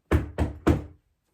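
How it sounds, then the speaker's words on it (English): Three firm knocks at a door, close and loud, evenly spaced in quick succession, then silence. "there was another knock at the door"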